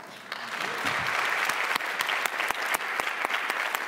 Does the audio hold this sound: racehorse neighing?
no